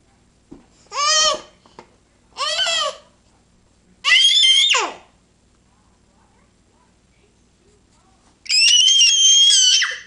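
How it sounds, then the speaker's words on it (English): A young girl screams in four separate bursts, each about half a second to two seconds long. The screams are loud, high and close, with quiet pauses between them. "Hey, don't scream."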